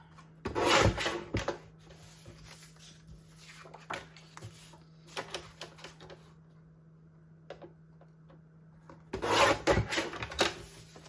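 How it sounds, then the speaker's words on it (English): Paper strips being cut for scrapbooking, soft scraping and rubbing strokes in quiet bursts, with a stronger cutting pass at the start and another near the end over a faint steady hum. "So I'm going to cut some strips."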